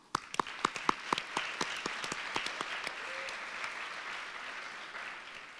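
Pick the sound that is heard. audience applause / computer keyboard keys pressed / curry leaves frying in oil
audience applause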